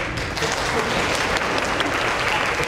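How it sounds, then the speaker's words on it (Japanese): Applause from the audience at a PHP tech conference sponsor session, dense and continuous clapping from a full room, loud and steady across the whole stretch with no voices. "拍手、はい、"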